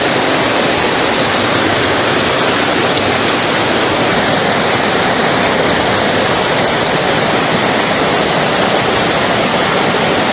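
A stream running high after rain, its water tinted reddish by iron, rushes steadily along a Northumberland walking route between Bellingham and Dally Castle, heard close as a loud, continuous broadband roar with no break.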